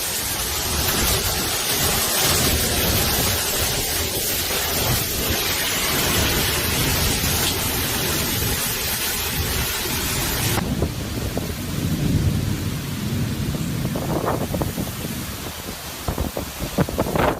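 Hurricane Andrew lashes Homestead, Florida with howling wind and driving rain, a loud unbroken roar with buffeting gusts and heavy downpour throughout, no voices.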